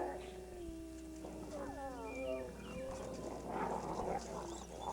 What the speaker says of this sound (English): The howl has several meanings.